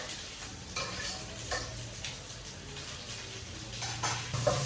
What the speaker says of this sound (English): So we mix our garlic. Mix your garlic.